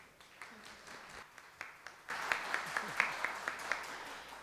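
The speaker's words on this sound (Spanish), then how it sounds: "El aplauso para ella." Audience applause for Sandra Plevisani, host of the cooking show Dulces Secretos, at a healthy-bakery certification event in Miraflores; scattered claps at first, then a fuller burst of clapping with some crowd noise.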